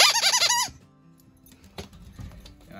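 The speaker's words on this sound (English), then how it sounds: "this one's actually a Nerf dog ball, so it's got a squeaky in it" A squeaky Nerf dog ball gives a quick burst of about five rhythmic, high-pitched squeaks, close and loud, before fading into quiet outdoor background at a campsite.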